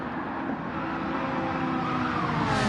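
Race cars in a sim racing league game, soft tyres, one car overtaking another through a run of turns: dense engine drone with faint tire noise rising steadily in loudness, no voices.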